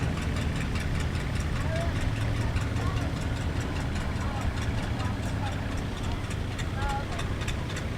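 A John Deere tractor engine idles and rumbles steadily at a parade, a continuous low drone mixed with crowd noise and a few faint whistles, with no distinct engine events standing out.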